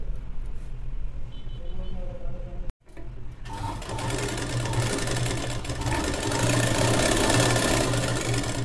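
Sewing machine stitching a children's long gown: after a brief pause, a steady mechanical whir and rapid needle chatter hum on at close range, with faint background noise.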